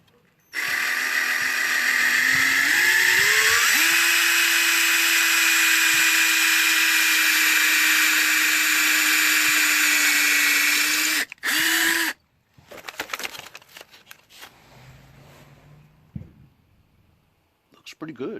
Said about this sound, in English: Gonna measure the holes and do some drilling.